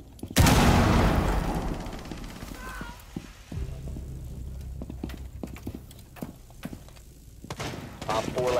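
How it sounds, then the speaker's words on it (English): A frag grenade detonates in a military shooter game, one loud, close blast that rolls off into a long rumbling tail, followed by scattered gunshots and radio-style voices. "Throwing frag grenade."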